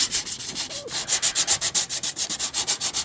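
Quick, rhythmic scraping strokes rasp close and loud as rust is worked off a metal part from a Frigidaire refrigerator that is not cooling, with an even back-and-forth pulse.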